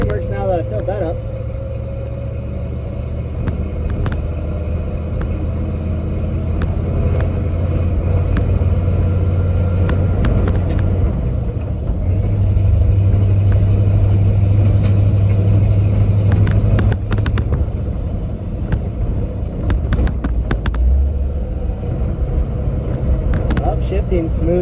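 Engine of a 1970 Ford 600 hay truck rumbling steadily while driving, its pitch dropping and rising through gear shifts, close and loud with someone talking over it.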